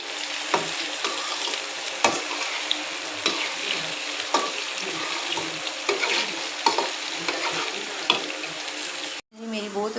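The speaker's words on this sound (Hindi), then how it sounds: "तो अभी ना भिंडियाँ मेरी फ्राई हो रही हैं" Okra (bhindi) frying in a pan with oil, sizzling steadily with repeated stirring clicks and scrapes nearby, until a brief cutoff near the end.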